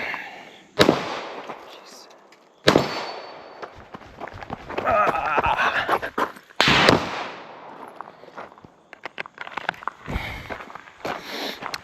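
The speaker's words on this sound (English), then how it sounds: "One shot on steel from 20 yards" Pistol shots fired at a steel target from 20 yards on a shooting range ring out as a few loud, sharp cracks spaced seconds apart, with footsteps and movement between them and people talking.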